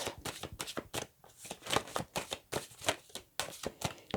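Tarot cards shuffled by hand during a reading, a close, rapid run of crisp riffling and slapping bursts in an uneven rhythm, with no talk over it.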